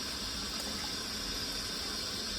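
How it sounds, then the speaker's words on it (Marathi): Water gushes in a steady, continuous stream into a cooking pot of mutton biryani, a constant hissing pour with no pauses and no voices. "त्याला जेवढं लागतंय तेवढं पाणी टाकून देणे"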